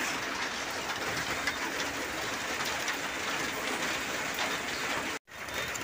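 Steady rain hisses down over open rice fields, an even wash of falling drops that cuts off abruptly near the end.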